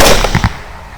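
Two rifle shots, one from a Lone Star Armory TX15 carbine in 6.5 Grendel and one from a .30 Remington AR, both firing Hornady SST bullets at hogs at night, go off in quick succession as sharp, loud cracks with a fading tail.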